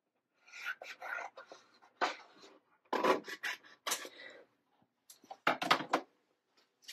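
Scissors or a trimmer cut a piece of craft paper nearby, making several short, soft rasping snips in uneven bursts that are separated by brief pauses.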